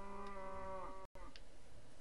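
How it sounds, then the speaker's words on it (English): A Minecraft cow gives a drawn-out moo, then after a short dropout a second fainter, briefer low moo follows, over a quiet background. "It's like been mooing throughout the whole damn recording."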